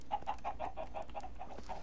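Loose chickens cluck softly in a quick, steady series of short calls, about a dozen in a row, faint and close against a low background murmur.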